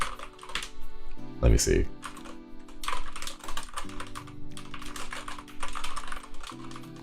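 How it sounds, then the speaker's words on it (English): Rapid typing on a new rubber dome computer keyboard clatters close by in quick irregular bursts, with a person talking briefly over the keystrokes. "I think this is just like a rubber dome keyboard."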